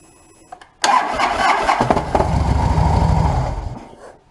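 A 2008 Harley-Davidson Ultra Classic motorcycle engine cranks briefly and fires after a starter clutch replacement, revving up into a loud, rough idle nearby before the sound tapers off toward the end.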